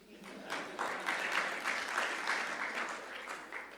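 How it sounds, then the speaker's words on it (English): A conference audience at an internet summit breaks into applause, fairly faint and distant clapping that swells after a brief quiet start and holds steady, with no one speaking. "I thought you would clap."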